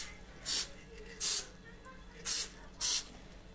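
A spray can of artificial snow is released in four short bursts, each a sharp hiss lasting about a quarter second, loud and close with brief pauses between them.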